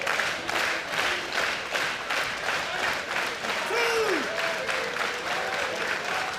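Sold-out crowd at a women's wrestling event in the Rebel Entertainment Complex in Toronto, Ontario, Canada, giving loud, sustained applause that fills the whole stretch, with a whistle and a voice rising over it midway.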